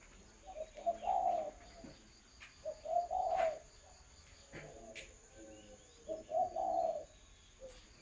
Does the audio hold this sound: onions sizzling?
no